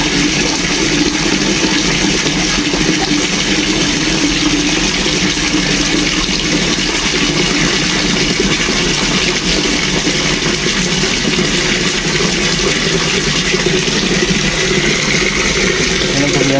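Tap water gushing steadily from a faucet supplied by a shallow well pump with its motor, a dense continuous broadband rush at close range with no pauses and no voices.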